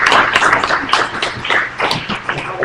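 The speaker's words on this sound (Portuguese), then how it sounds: "para quem eu peço uma salva de palmas" An audience at an International Human Solidarity Day event gives a round of applause, steady close clapping from many hands continuing without pause.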